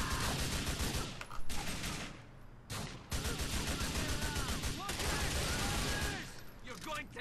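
Dense gunfire crackles through a shootout in the video game GTA 4, rapid shots layered over game sound with a few short breaks, while voices talk over the action.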